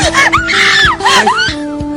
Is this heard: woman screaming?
yes